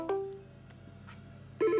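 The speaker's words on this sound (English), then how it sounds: "Phone is getting an incoming call." A phone ringing with an incoming call from an Axis I8016 intercom, a short electronic tone at the start, then a warbling ringtone burst at the end, moderately loud and without speech.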